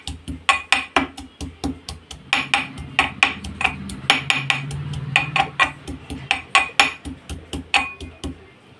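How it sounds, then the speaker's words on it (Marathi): Five or six garlic cloves lightly crushed in a kitchen: a close run of sharp knocking strikes at a fairly steady, quick rhythm, continuing for several seconds with a few heavier blows. "तेल गरम होते तोवर आपण लसणाच्या 5-6 पाकळ्या घेऊन थोडासा असा ठेचून घ्यायचा आहे"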